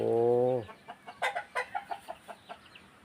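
A hen in a rural Thai yard gives a drawn-out tonal call, then breaks into a run of short clucks spaced irregularly, fairly close and moderately loud.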